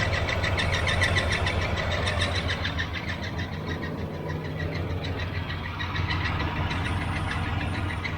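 A 1981 Chevrolet Silverado engine idles steadily with the alternator belt removed, a close, continuous rumble with a slight rhythmic shake and no voices.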